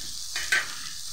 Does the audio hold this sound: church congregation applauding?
no